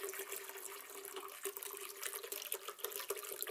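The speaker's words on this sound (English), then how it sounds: "let's start off by adding around half a litre of water, or 2 cups of water" Half a litre of water pours into a blender jar for a green smoothie, a soft, steady splashing trickle lasting a few seconds, quiet and close with no talk.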